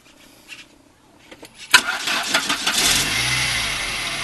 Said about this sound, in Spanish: Y te van a ver qué diferencia, cómo arranca este carro.